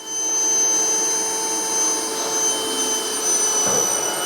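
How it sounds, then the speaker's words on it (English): A wet-dry vacuum sucking water out of toilets whines loudly and steadily, its motor drone constant with a gurgling suction noise mixed in. "We got our handy dandy vacuum, wet dry vac. That'll suck all the water right out of the toilets."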